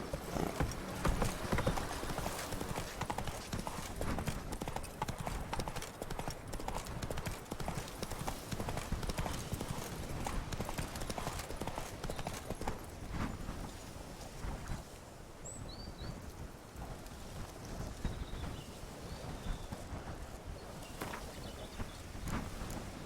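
A horse gallops in The Witcher 3 video game, its hooves clip-clopping in a fast, continuous rhythm over a steady outdoor ambience, with an occasional whinny and faint birdsong.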